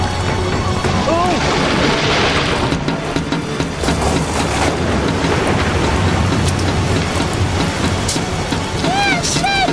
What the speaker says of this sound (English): The storm is right on top of us!